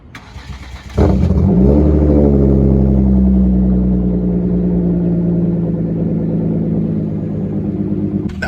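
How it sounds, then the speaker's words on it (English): A Hyundai Genesis Coupe engine cranks and fires with a sudden loud catch, then settles into a steady, rumbling high idle that slowly drops in loudness over several seconds. "let's get a little cold start out of this and get the hell on out of here"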